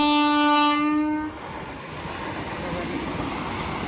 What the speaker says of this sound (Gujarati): metro train